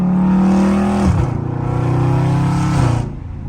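A loud Scat Pack car engine drones steadily from inside the vehicle on a late-night drive, its exhaust note rising and settling as the revs shift, with no talking.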